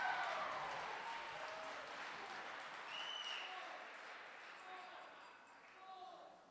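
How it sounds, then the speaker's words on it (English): Applause at a charity auction gala fills the room as a steady, fairly distant wash of clapping that slowly fades, with faint voices mixed in. "Give her a big round of applause!"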